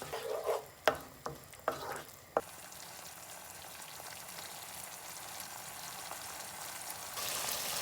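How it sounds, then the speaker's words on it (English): Salted sauce for green pasta frying in a pan, a few distinct scraping stirs at the start that give way to a faint steady sizzle, with a louder hiss near the end. "Then mix. Just fry 2-3 minutes."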